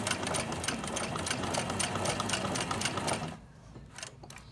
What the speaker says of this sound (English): So I'll show you how it performs on straight stitch and zigzag, which this machine's capable of.